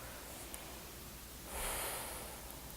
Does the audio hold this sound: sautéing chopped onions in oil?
no